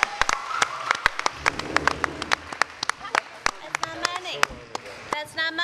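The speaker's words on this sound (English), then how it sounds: "Give a big round of applause to" Audience applause greets a voice actor called onto the stage at an anime convention panel, sharp claps scattered through a loud crowd with voices talking over it.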